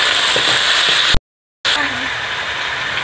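Peas tossed into a hot pan for chicken macaroni sizzle with a steady broadband fry, broken by a half-second cut of silence partway through, and no voices over it.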